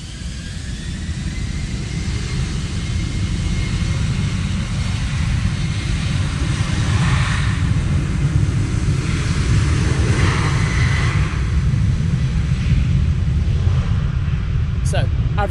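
Jet engine of an Embraer E190LR at Manchester Airport in wet, windy weather, a steady loud roar with wind buffeting throughout, no speech.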